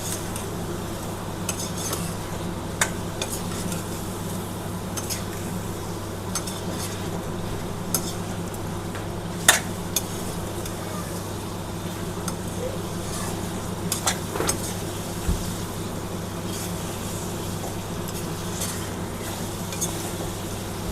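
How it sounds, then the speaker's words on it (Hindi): Chicken frying in a pan with dry spices added, a soft steady sizzle under scattered clinks of a spoon or utensil against the pan, with a voice talking now and then. "अब ये चिकन हल्का फ्राई हो गया है।"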